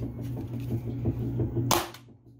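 A Nerf Max Launcher toy shotgun fires foam snowballs with a single sharp pop near the end, close and fairly loud, after a low steady hum of background noise.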